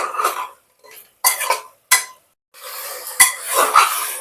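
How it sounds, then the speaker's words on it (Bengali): Chicken for rezala is stir-fried in a pan, heard as loud separate bursts of sizzling and scraping as the meat is tossed, with brief silent gaps between them and a longer spell at the end. "এবার এই মাংসটাকে 5 থেকে 7 মিনিট ধরে একটু কষিয়ে নেব"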